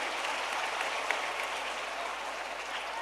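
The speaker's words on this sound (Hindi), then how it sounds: "मीडियम के लिए ज़ोरदार तालियाँ होनी चाहिए।" Steady, fairly faint clapping from an audience at a school quiz contest, an even wash of hand claps with no voices on top.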